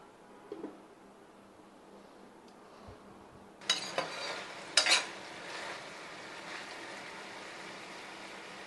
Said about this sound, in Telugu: ఇప్పుడు మళ్ళీ ఒకసారి కలుపుకోవాలి